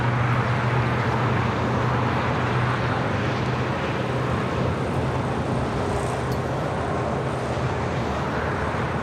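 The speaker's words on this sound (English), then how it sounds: "Our next takeoff is American Airlines Flight 1632," An American Airlines Airbus A321 on its takeoff roll at LAX gives a steady, broad jet engine roar with a low rumble that holds at an even loudness with no pauses.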